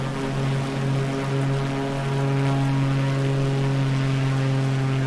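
A propeller airplane engine in Microsoft Flight Simulator 2020 drones steadily and loudly as the aircraft climbs. It is a constant tonal hum that swells slightly partway through, with no talk over it.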